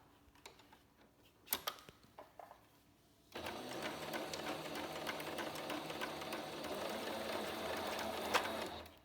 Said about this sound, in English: I'm gonna sew this end up.